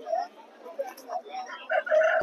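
Hens and roosters at a poultry market in Nallapadu, with clucking and brief crowing calls rising toward the end over a busy background of talk.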